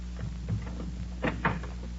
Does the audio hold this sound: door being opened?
yes